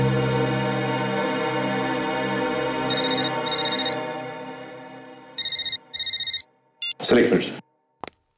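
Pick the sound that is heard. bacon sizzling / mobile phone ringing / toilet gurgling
mobile phone ringing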